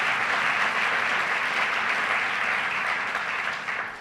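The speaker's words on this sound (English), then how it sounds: "Let's give her a round of applause." Sustained, dense applause from a conference audience welcoming a speaker at a state government economic development event, loud and steady before tapering slightly at the end.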